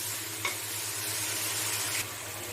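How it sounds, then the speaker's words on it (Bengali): Fish oil frying in a pan for a fish-oil chochchori, a steady soft sizzle with a brief stir or scrape near the start and another shift toward the end, no talking. "মাছের তেলটা দিয়ে নিয়েছি, দিয়ে আমি এটার সঙ্গে একটু ভালো করে ভেজে নেব"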